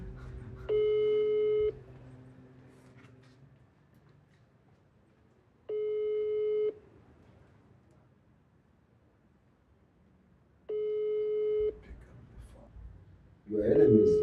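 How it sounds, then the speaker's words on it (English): A WhatsApp call rings out through a phone with three evenly spaced ringback tones about five seconds apart over a faint background hiss, then a voice breaks in at the end. "It's ringing."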